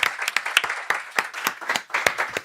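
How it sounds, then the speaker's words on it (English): Applause from a conference audience after a functional programming talk, many hands clapping in dense, steady bursts, close and loud, with no voices on top. "One big applause again for Isaac"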